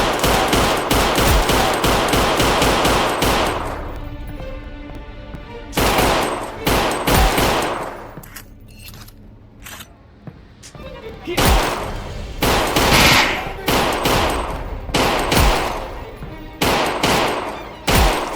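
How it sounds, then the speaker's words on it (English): VR video game gunfire felt through an APEXINNO haptic gun stock, loud bursts of rapid automatic shots and sharp single cracks in clusters, separated by brief quieter gaps, with a person talking faintly in between. "It really makes it feel like you're shooting a real sidearm here."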